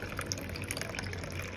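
Water trickles and splashes steadily as it is poured into a bowl for a steamed minced pork mixture, a soft, close pouring sound with no talk.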